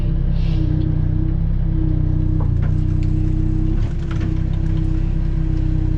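Backhoe engine droning steadily nearby while it flips a snow plow over, a loud, constant low rumble with faint clanks and a slight dip near the end.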